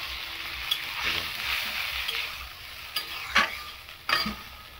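Rohu fish curry with gravy frying in a pan, a steady sizzle under repeated stirring, with several sharper scrapes and clatters of the utensil against the pan near the end.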